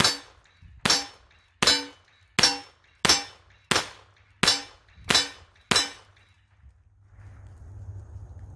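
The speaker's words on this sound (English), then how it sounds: "Nice shooting rifle, by the way." Eight sharp gunshots from a .45 ACP AR-15 rifle at a shooting range, fired at an even pace about 0.6 seconds apart, each loud crack decaying quickly, followed by quiet background rumble.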